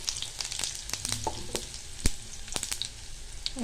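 Tempering spices and coarsely crushed garlic cloves fry in hot oil for a bitter gourd tamarind stew, giving a close, crackling sizzle broken by sharp pops and the clink of stirring.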